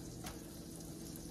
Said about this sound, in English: so then all you do is you start frying. You can see right away it's starting to bubble.